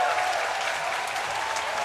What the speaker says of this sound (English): the cheer there was for Lizzie Wing going to the front of the peloton